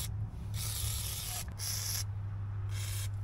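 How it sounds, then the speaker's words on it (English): Lubricant sprays from an aerosol can onto the front hub parts of a Jeep during axle removal, in several close hissing bursts of about a second each, separated by short pauses, over a steady low hum. "Get some lube in all of these."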